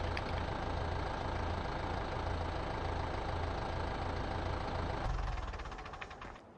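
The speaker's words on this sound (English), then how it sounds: "I can't cut my tractor off" A tractor engine idles in Farming Simulator 15 on PS4, a loud, steady low rumble with a knocking pulse that winds down and fades near the end, with no talking.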